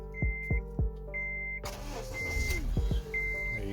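An Acura TSX engine cranks and starts, with a few sharp clicks and chime tones before a steady idle settles in close by, with no talk.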